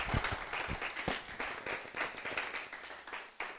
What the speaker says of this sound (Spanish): si quiere darle un aplauso al Señor.